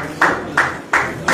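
A few spaced, sharp claps at a BJP felicitation event for newly elected MLAs, about four distinct bursts in just over a second, moderately loud and not joined by a crowd.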